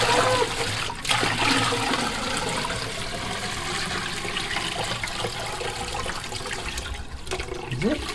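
A toilet is flushed by pouring about two gallons from a bucket into the bowl during a power and water outage, giving a continuous rushing, gurgling water sound with a small draining trickle near the end.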